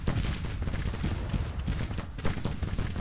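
Continuous crackling musket volleys from a Civil War battle in Grand Tactician, a dense, rolling rattle of many muskets heard at a distance without pause, with faint hoofbeats underneath.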